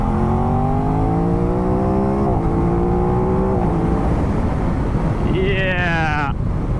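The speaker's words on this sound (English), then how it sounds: "when you rev her out a bit, ooh, it gets a bit more exciting, that's for sure. Sounds fantastic as well." An Aprilia RS660 motorcycle engine revs on the move, its note climbing repeatedly in pitch through the gears and dropping at each shift, loud and close under steady wind rush.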